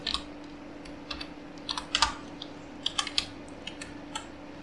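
Rapid, uneven clicks of typing on a computer keyboard, fairly close and distinct, over a steady low hum with no voices.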